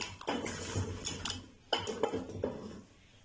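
Spoon scraping and clinking in a bowl while chana daal tikki ingredients are mixed, two short close bursts of stirring and knocking.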